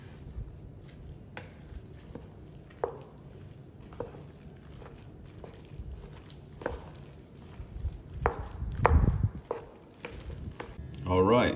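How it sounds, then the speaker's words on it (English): Potato salad being mixed with honey spicy brown mustard in a bowl: soft, wet, continuous stirring and scraping with scattered clacks of the utensil, close up, no voices. "And we're gonna go ahead and mix."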